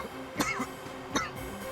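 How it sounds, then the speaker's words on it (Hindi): Two short, dry coughs from a person, spaced under a second apart, fairly close and quiet over a faint background hum. "उन्हें ऐसे ही खांसी आती है।"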